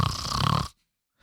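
A person imitating snoring, one rough guttural snore-like exhale at close range, cut off abruptly by silence.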